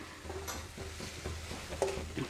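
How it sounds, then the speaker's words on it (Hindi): Spices stirred into a pan of aloo gobi, potato and cauliflower frying in oil: a spoon scrapes and clicks in short strokes over a steady low sizzle, close up, no talk. "अब हम इसमें धनिया पाउडर डाल देंगे, अच्छे से मिला देंगे।"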